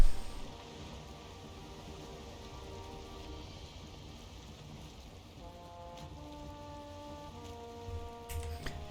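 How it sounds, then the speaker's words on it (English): Steady rain falls in the video game Valheim, a continuous soft hiss of drops across the scene with a faint low drone, ending with a few brief clicks and knocks; no one speaks. "I think it's gonna rain soon."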